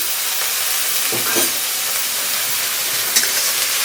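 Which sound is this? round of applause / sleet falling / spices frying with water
spices frying with water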